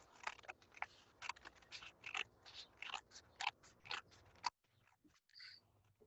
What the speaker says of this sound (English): you're just gonna cut around the edge of the plate